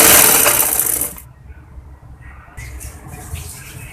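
Sewing machine stitching the neckline of a baby frock, a loud steady buzzing run that cuts off after about a second, leaving quieter handling noise.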